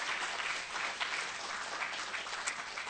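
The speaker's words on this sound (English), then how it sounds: "May I invite all the parties, please give them a warm round of applause to show appreciation." Warm applause from a symposium audience at a science academy summit, given for sponsors and partner parties, dense and steady throughout at a moderate distance.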